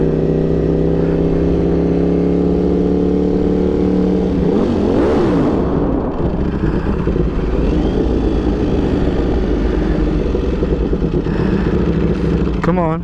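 Ducati Panigale V4 motorcycle exhaust while riding on a freeway: a loud, continuous engine drone mixed with wind rush, the tone shifting as the bike accelerates.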